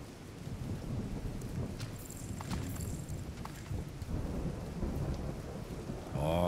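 Steady rain with rumbling thunder in the video game The Division 2, a dense hiss of falling water and low booms, plus a brief tonal chime near the end.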